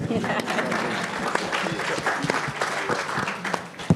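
Audience clapping at a panel discussion, a moderate round of applause with distinct individual claps and some voices talking underneath.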